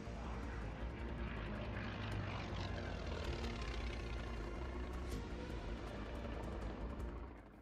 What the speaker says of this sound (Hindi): आसमान में उड़ता काल, एयर शो के दौरान प्लेन क्रैश